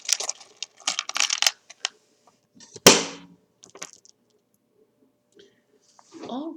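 Small metal charms click and clatter in short bursts as they are pulled by hand, with one sharper clack partway through, followed by scattered faint clinks and a brief murmur of voice.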